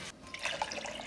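Water and sugar pour into a pot for a mint and cucumber sekanjabin syrup, giving a faint, short trickling and splashing with a few soft drips, close by and quiet.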